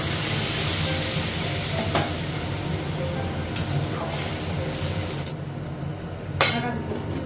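Water poured into ripe tomatoes frying in a pan gives a steady broadband sizzle that runs the whole stretch, with a few sharp clinks and scrapes of a utensil near the end.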